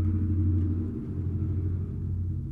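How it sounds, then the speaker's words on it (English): A loud truck rumbling past outdoors, heard as a deep continuous engine drone that fades slightly as it moves on, with no voices. "Loud truck, right?"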